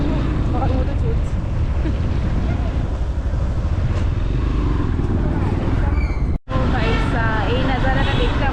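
A motorcycle rides along a road in Bangalore, giving a steady, close roar of engine and wind noise that drops out briefly near the end and then resumes.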